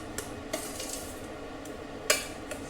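Sweet kalkandu rice being mixed with a pinch of salt and ghee, a spoon scraping and clinking against a pot with soft stirring sounds and a sharper clink, close and quiet.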